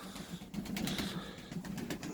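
Tumbler pigeons in a loft give soft, low cooing with a faint flutter of wings, quiet and close, with no voices over them.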